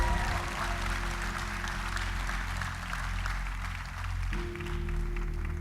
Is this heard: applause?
yes